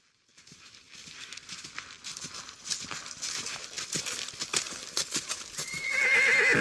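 A horse whinnies and its hooves clip-clop in a steady rhythm, close and fairly loud, building into a louder neigh toward the end, with no talking.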